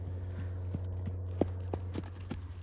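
Hoofbeats of an Arabian horse running with a herd: faint, distant, irregular thuds spaced unevenly over a steady low hum.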